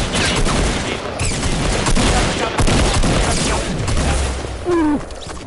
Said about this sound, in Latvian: Viņš man neredzēja, ka es tur nācu, un viņš man pēkšņi šāva.